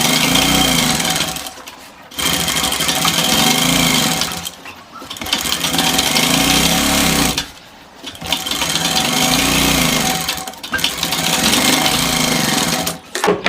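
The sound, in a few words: sewing machine double-stitching a kurta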